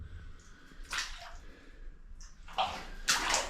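Water in an old gold mine tunnel in New Zealand, faint sloshing and splashing underfoot in short bursts, with quiet dripping and a hollow echo between them.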